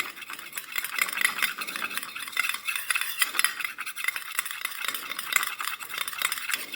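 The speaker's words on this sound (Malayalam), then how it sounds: "ഇനി ഇത് രണ്ടും നന്നായിട്ടൊന്ന് മിക്സ് ചെയ്യുക." A castor oil hair oil mixture is stirred briskly in a small container, making a continuous close rattling, clinking swirl that stays busy and even throughout, with no talking.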